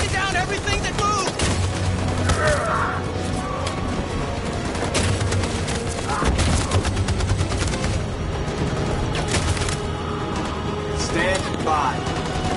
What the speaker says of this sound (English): That machine gun is taking down everything that moves!